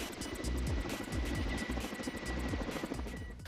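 A helicopter readied for wildfire suppression spins up, its rotor throbbing in a steady rapid chop over a droning turbine whine, loud and close throughout with no talking.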